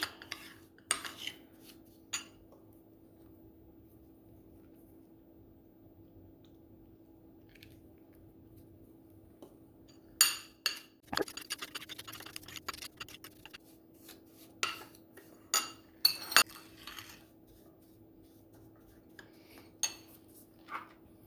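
A spoon mixes colouring into a sugar scrub in a bowl, making scattered light clinks and scrapes against a quiet, humming background, with a denser cluster of taps midway.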